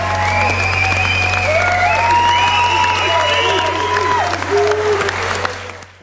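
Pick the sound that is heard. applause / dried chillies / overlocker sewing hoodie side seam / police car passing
applause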